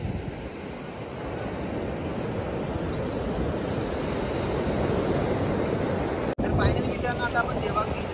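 Sea waves surge on Devbag beach in the morning, a continuous close wash of surf mixed with heavy wind buffeting on the microphone, with one brief dropout near the end.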